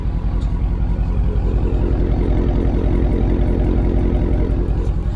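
A Dodge Charger with mufflers deleted and resonators kept idles with a steady, deep, throbbing rumble, loud and close throughout with no talking.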